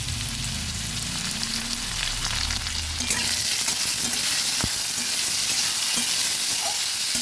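Turmeric powder and salt frying in a pan with oil, a steady close hiss and sizzle with light scraping as the mixture is stirred.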